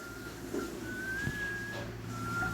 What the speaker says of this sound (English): A slow whistling.